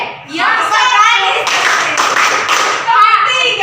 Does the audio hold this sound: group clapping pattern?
yes